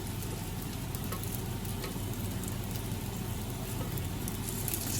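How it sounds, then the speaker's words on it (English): Muthias pan frying give off a steady, even sizzle with a low background rumble, continuous and unbroken throughout. "place those sides which have not been cooked on the pan again"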